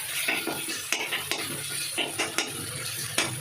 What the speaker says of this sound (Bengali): চিংড়ি মাছগুলো দিয়ে একটু নেড়ে নেবো, যাতে মশলাটার সাথে চিংড়ি মাছটা মিশে যায়।